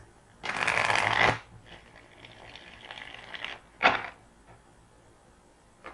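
Tarot cards are shuffled in a loud riffling burst, followed by softer sliding and a quick second riffle, close to the listener with no talking.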